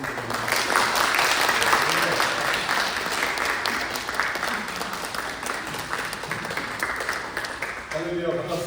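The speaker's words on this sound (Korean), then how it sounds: "정말 뜨거운 박수로 환영해 주시기를 바랍니다" A church congregation at a Sunday service applauds warmly and steadily for several seconds to welcome the pastor, the sound thinning out just before a voice begins at the end.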